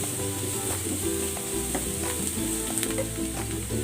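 Finely minced lemongrass fries in a pan for chicken, a steady close sizzle with crackling pops and faint scrapes as it is stirred.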